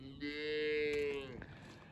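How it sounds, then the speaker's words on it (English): A single cow on a farm lets out one clear, drawn-out moo lasting about a second, close and moderately loud, with quiet surroundings after. "I'm just out here checking on cows and feeding sweets."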